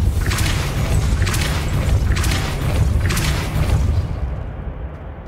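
Depulso spell blasts in Hogwarts Legacy land as a run of loud, booming thumps about one per second, four in a row over a rumbling low bed that fades toward the end.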